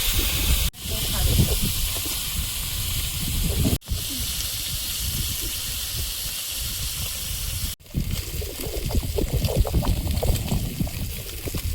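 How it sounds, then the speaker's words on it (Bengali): Small fish fry in hot oil in a wok, a loud steady hiss and crackle that runs close throughout and breaks off briefly a few times. "এবার ছোট মাছগুলো ভাজবো।"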